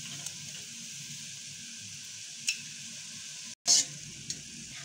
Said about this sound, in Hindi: अब मैंने इसके अंदर चावल ऐड कर रही हूँ।